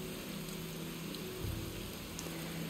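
Steady rain falls in the rainy forest of Stranger of Paradise Final Fantasy Origin, a constant even hiss of drops on surfaces, soft and continuous with a faint low hum beneath and no talk.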